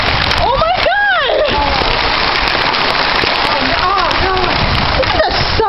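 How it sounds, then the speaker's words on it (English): Hail falls outside in a dense, continuous patter of hard drops striking surfaces, with voices talking over it. "It's still hailing."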